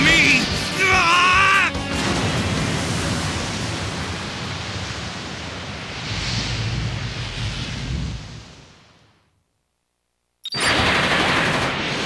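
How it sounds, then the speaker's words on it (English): Anti-aircraft fire in Dynasty Warriors Gundam 2 rumbles as a dense, noisy barrage of rapid blasts and crashes with a short voice at the start, fading out to silence before the loud barrage returns abruptly. "They're coming from below. Anti-aircraft fire."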